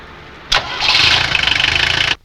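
A car engine cranks with a sharp initial burst, then catches and runs with a rapid pulsing churn for about a second and a half before cutting off abruptly, loud and close.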